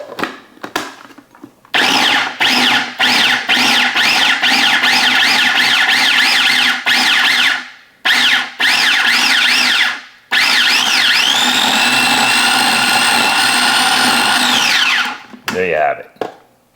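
A grinder whirs in loud, steady bursts while seasoning chicken with lemon and olive oil, several short pulses then one long sustained run, ending abruptly.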